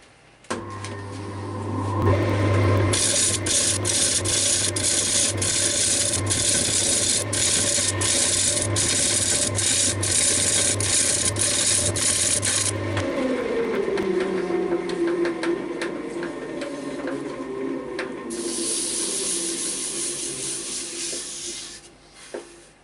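Carbide cutter taking light cuts across a big wooden bowl on a lathe, a loud continuous scraping over a steady motor hum; the hum drops away midway as the lathe winds down, then a brief burst of scraping returns.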